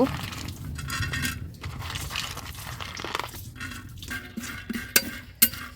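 Pumpkin seeds roast in a covered clay pot while being stirred, giving scattered clinks, scrapes and sharp little pops, with two louder pops near the end over a busy rattling background.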